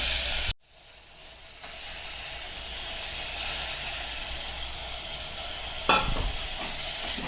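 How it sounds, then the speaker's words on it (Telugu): Mutton fries in oil with mint, giving a loud, continuous sizzling hiss that cuts out briefly near the start, then returns, with a scrape of stirring later on. "మటన్ నూనెలో అంతా మగ్గాలండి"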